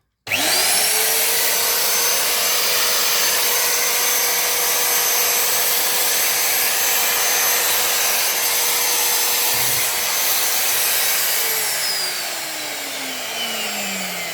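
A magnetic base drill runs loud and steady for about eleven seconds with a sustained motor whine, then winds down near the end with a falling pitch while the noise continues more quietly. No one speaks.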